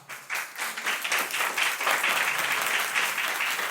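An audience bursts into applause at a live show, the clapping swelling quickly after a brief start and holding full and dense for the rest of the moment, no voices over it.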